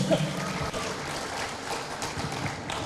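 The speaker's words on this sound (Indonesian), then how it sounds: "saya kira tepuk tangan bagi kita semua" Student audience at a question-and-answer session in Medan applauds, a fairly soft, steady clatter of hands with scattered sharper claps and faint room murmur.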